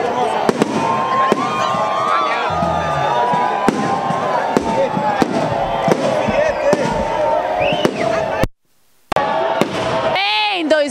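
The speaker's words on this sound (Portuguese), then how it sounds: "Já soltaram os fogos!" New Year's fireworks at a beach celebration in Itaúnas burst in a steady run of sharp bangs and crackles, heard over a noisy, cheering crowd and chatter.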